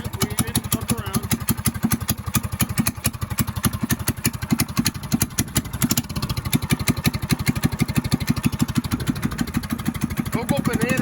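A Coleman BT200x mini bike engine runs after a stage one install with no chain fitted, chugging in a fast, even rhythm of close, loud exhaust pulses that continues throughout.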